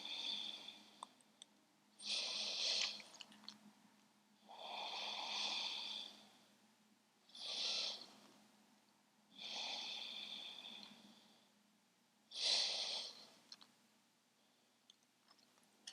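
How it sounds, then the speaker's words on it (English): Slow, deep breaths during seated yoga, about five long inhales and exhales close to the microphone, each a soft airy whoosh separated by brief quiet pauses. "Four more breaths in this position."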